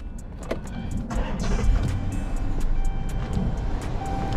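A Chrysler 300 with 140,000 miles idles nearby with a steady low engine rumble, faint rapid ticking from a lifter fault running through it, alongside other vehicle noise at an outdoor auto auction.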